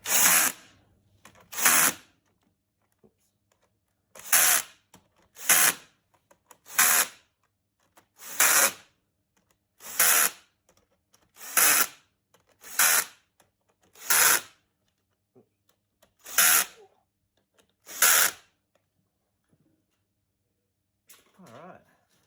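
A power tool tightens fasteners during a battery install on a Vectrix ZEVA electric motorcycle with Leaf modules, about eleven short whirring bursts repeating at steady intervals, close and clear with quiet gaps between.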